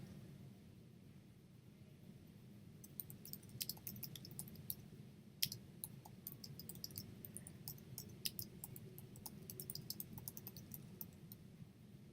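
Sharp, faint computer mouse clicks, scattered and irregular, repeat over a low steady room hum with no voice.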